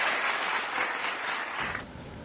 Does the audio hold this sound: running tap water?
no